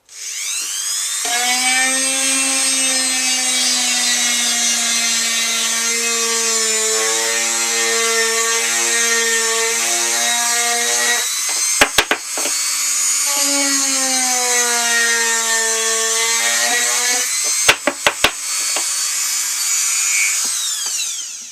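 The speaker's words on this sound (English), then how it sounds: "Okay, so we take our Dremel out." A Dremel rotary tool whines steadily at high speed while working holes in a Boba Fett helmet, its pitch sagging and recovering under load, with two brief bursts of sharp clicks between long continuous runs and no talking.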